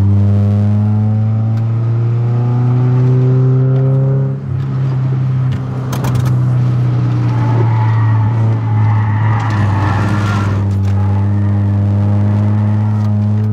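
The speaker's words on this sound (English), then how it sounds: "That 5 Series is going nuts." A BMW 5 Series on a private race track holds a loud, droning engine note that rises and falls through hard turns, close and continuous with tyre noise mid-run.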